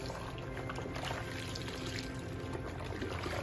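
Warm water poured and worked over hair during a hair-colour and hair-improvement treatment in a salon, a steady close splashing trickle that runs continuously without pause.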